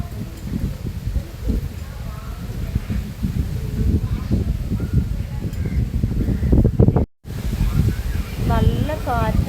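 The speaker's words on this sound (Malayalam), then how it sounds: "നല്ല കാറ്റാണ്." Strong wind buffets the microphone in a rural village outdoors, a steady broadband roar with gusts throughout, while several people talk over it and a brief dropout cuts the sound near the end.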